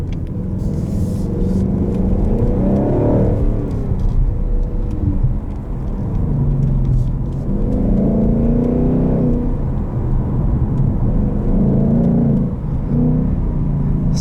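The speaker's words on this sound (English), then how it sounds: "whereas sport sounds like a muffled race car" A 2020 Ford Mustang GT Performance Package with automatic transmission rumbles loudly through its exhaust in sport mode, a steady deep drone that swells in several waves as the engine revs, heard close with no talk.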